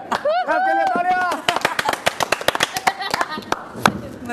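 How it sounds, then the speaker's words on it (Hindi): Hands clap in a quick, uneven burst of sharp claps after someone finishes speaking, with more talk and laughter-like voices around them. "आपके लिए तालियां।"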